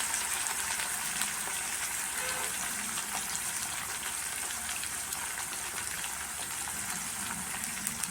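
Onion and garlic frying in hot oil in a pan, a steady, dense sizzle holding at an even level throughout with no breaks.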